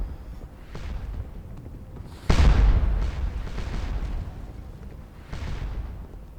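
Cannon fire echoes across a Waterloo battlefield in the Scourge of War Waterloo video game. Several deep booms roll out, with one heavy blast standing out among more distant rumbling shots.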